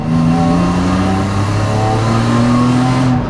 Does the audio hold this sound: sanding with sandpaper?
no